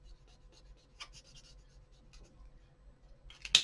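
A coloured marker scratches and squeaks across printer paper while roses are drawn, with soft, irregular strokes and taps close by and a sharper scrape at the end.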